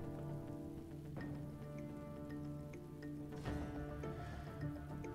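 Steady rain falling in the video game Divinity: Original Sin II, a soft continuous patter beneath a low sustained musical drone, with a couple of brief louder splashes or thuds partway through.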